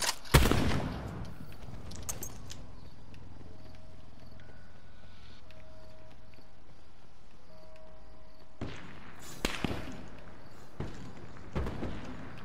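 Gunfire in the video game Call of Duty: Black Ops 4, with a loud opening shot, then a long lull of low background noise, then a few more sharp bursts near the end.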